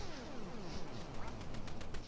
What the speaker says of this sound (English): I just shot down a duck by saying fuck.